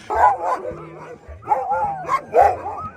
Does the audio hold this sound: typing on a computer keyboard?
no